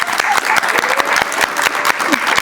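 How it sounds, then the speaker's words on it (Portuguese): Lively audience applause in a reality show studio, with dense, steady clapping that runs the whole time. Close and fairly loud, with a faint murmur of voices underneath. "Palmas para a plateia."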